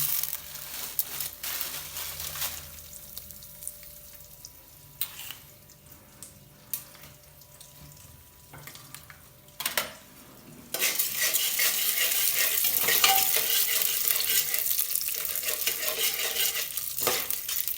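Popcorn heating in a pan beside Maggi noodles boiling, a soft steady sizzle and bubbling with scattered stirring clinks, growing to a louder, dense frying hiss in the second half, with no speech.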